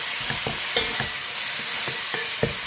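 A spoon stirs ginger paste in a hot pan, the mixture sizzling steadily as the spoon scrapes through it in repeated strokes, close up with no talking.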